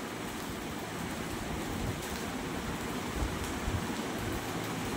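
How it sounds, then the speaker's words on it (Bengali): Ground cumin and coriander, with chili powder, sizzle in a pan as a little water is poured in. A broad, hissing spatter goes on steadily, with no voices over it. "যাতে মশলা পুড়ে না যায়, একটু জল দিয়ে দিলাম।"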